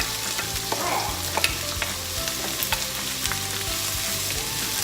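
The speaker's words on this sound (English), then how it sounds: "We're gonna start by sauteing the onions." Onions sautéing in a hot pan for Mexican lasagna, a dense, crackling sizzle that holds steady throughout, loud and close with a few small pops and clinks, no talking.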